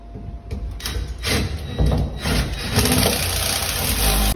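Screws driven in with a power driver while mounting a door closer: loud, close whirring and grinding in repeated bursts that run almost continuously.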